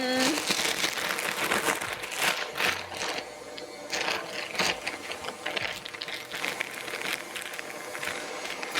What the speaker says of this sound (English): So just cut the top off your piping bag, shove it in.